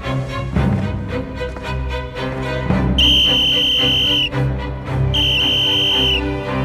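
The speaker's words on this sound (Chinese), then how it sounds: "吹哨子。" In a wartime action film, a soldier blows a whistle in two long, shrill blasts over a dramatic orchestral score.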